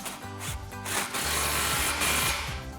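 Impact wrench with a 15mm socket tightening an exhaust clamp on a 2011-2014 Mustang GT cat-back exhaust, several short loud rattling hammer bursts close up.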